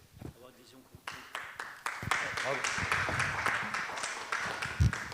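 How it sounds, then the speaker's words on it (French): Sparse, hesitant clapping from a debate audience, starting with a few isolated claps and swelling into thin, steady applause under ongoing voices. "Ce sont des applaudissements très timides"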